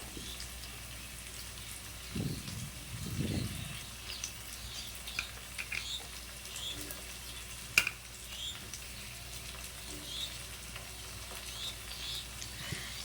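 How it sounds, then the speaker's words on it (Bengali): Onions and green chilies frying in a wok give a faint, steady sizzle throughout, with a few low thumps early on and an occasional sharp clink from a utensil. "পেঁয়াজটা দিয়ে লঙ্কাটা দিয়ে দিলাম এবার এক এক করে ভালো করে লঙ্কা আর পেঁয়াজটাকে একটু ভাজা ভাজা হয়ে আসলে"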